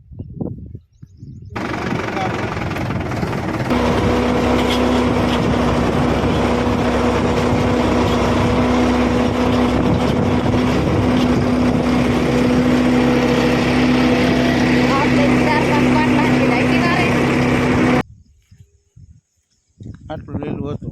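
A farm tractor engine runs steadily in a cotton field, a loud continuous drone with a fixed hum that starts up, holds for about fifteen seconds, then cuts off, with faint talk around it.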